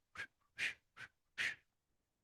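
A person whistles an imitation of a whippoorwill's call: four breathy, airy notes in two pairs, short then longer, close and quiet with silence between.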